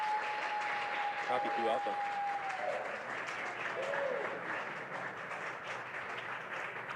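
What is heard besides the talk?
crowd cheering during rocket launch stage separation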